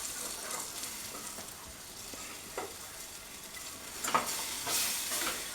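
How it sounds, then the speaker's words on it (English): Flour being whisked into melted butter in a pan for a roux, a soft sizzle with scattered brushing whisk strokes that grow busier toward the end, close and fairly quiet with no talking. "we're going to add some flour. Whisk that all together."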